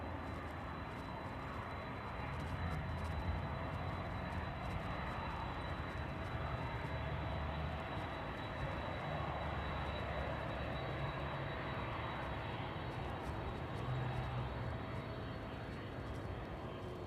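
Cargo aircraft landing at East Midlands Airport on a chilly evening, a steady distant engine roar and rumble that holds evenly throughout, fairly faint, with no talk.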